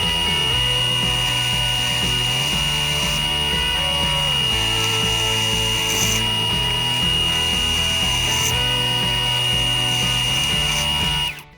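A drill bores through clamped stock for shelf brackets, with a steady, loud motor whine running throughout. Its pitch dips and rises as the load on the bit changes, and it stops abruptly at the end.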